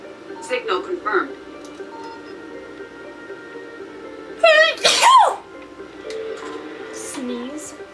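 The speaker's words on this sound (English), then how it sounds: "Sneeze." A person sneezes loudly and sharply once, a quick intake followed by the burst, set among quieter spoken voices and faint electronic sounds from a game playing.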